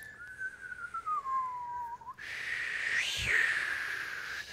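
People in a theatre workshop whistle to imitate wind, first one long sliding wavering tone, then a breathier, broader whistle like a breeze rising and growing stronger.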